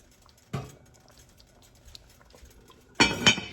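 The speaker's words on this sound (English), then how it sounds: "So what I'm going to do is put the lid back on it" An iron pot lid set onto a pot of American-style goulash, two near metallic clanks a few seconds apart, the second a double knock, with near silence between them.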